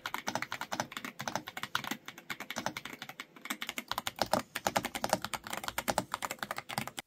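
Rapid, continuous typing on an Epomaker Dynatab 75x mechanical keyboard with a built-in screen, crisp close key clicks in uneven bursts with a brief pause midway, no voices.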